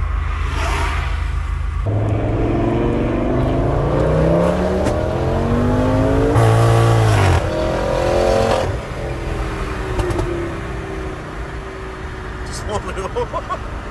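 A 1000-horsepower V10 Audi RS6 engine revs hard and climbs through the gears, rising harmonics swelling and dropping at each shift, loud and close with faint voices underneath.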